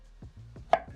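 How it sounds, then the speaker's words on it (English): A knife cuts potatoes into cubes on a board: a few sharp, close chops at an uneven pace, with the last one loudest and no talking. "we cut up these potatoes into nice cubes"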